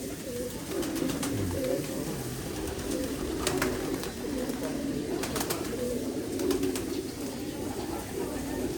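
A large flock of pigeons in a coop coo continuously in low, overlapping, throaty calls, with occasional sharp flutters and scrapes nearby.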